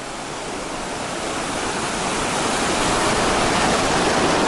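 A waterfall cascade on the Whitewater River, along the Foothills Trail, roars as a steady, dense rush of falling water that stays loud and unbroken and swells slightly throughout.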